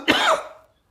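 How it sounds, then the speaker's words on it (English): A single short, harsh cough close to the microphone, fading quickly into silence. "I'm going to cough real quick."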